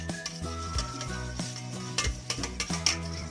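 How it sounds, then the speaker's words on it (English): Avocado oil is whisked into wet ingredients in a bowl for carrot bread, heard as quick, rhythmic scraping strokes that are close but quiet. "Whisk this together."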